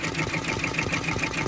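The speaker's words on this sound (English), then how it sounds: "here it is, stitching the zigzag step." A quick, even run of needle strokes from an embroidery machine stitching a zigzag step for a confetti design, a close mechanical rattle with a steady rhythm throughout.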